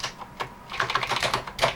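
Keys on a Sega SC-3000H computer keyboard being pressed one after another, a quick irregular run of crisp plastic clicks and clacks, close and fairly quiet, with no voices.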